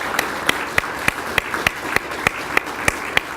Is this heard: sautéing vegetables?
no